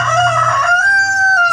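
A native chicken rooster crows nearby, a single loud, drawn-out cock-a-doodle-doo that rises and holds a strained tone, with no talking over it.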